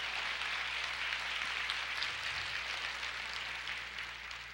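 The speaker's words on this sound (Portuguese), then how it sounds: "vamos aplaudir ao Senhor" A church congregation applauds during a worship service, a steady, dense wash of clapping that holds at an even level for several seconds before easing slightly at the end.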